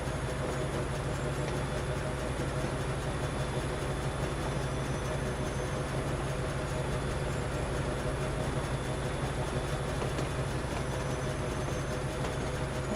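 Steady, continuous rolling rumble of a train riding along the rails in the factory-building game Foundry, with a constant low drone and hiss and no talk.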